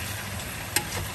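Kosha mangsho, a Bengali mutton curry, sizzles steadily in a pan as it is stirred, with one brief scraping clink of the spoon partway through, close and alone without speech.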